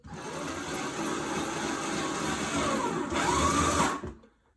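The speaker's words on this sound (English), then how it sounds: "So sending the screws in only part way just so that it's easier to put the plate up." A powered screwdriver drives screws partway into a wooden wall stud, giving a close, steady whirring drone that rises slightly near the end before stopping abruptly.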